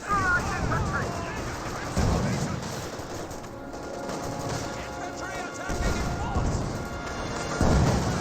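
Tank shells slam into a Panzer IV in Company of Heroes 2, with several heavy crashing impacts and gunfire amid a busy battle din, under steady commentary.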